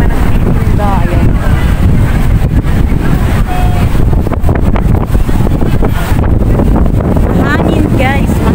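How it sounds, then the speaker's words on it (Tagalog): Strong outdoor wind buffets the microphone in a constant loud rumble, with a person talking over it. "Mahangin guys."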